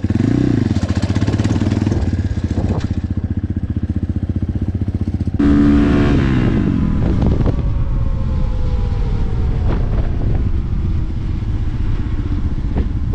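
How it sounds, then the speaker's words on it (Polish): Diabolini MMR 250 cross motorcycle, new out of the box, running and being ridden: a loud, close, buzzing engine with a rhythmic throb that surges as gears change. Wind rushes across the microphone and there is no speech. "Nie szarpie, równo praca silnika, biegi pięknie wchodzą."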